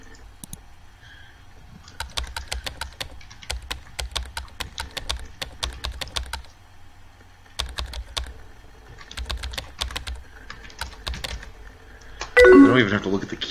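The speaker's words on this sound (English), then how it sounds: "I don't know why I'm trying to type this out." Keys clatter in the video game Emily Is Away, several runs of quick, light taps separated by pauses, ending with a short chat alert tone.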